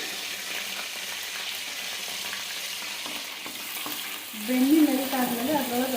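Butter melting and sizzling in a pan for street-style pav bhaji, a soft steady sizzle close by, joined near the end by a voice speaking over it.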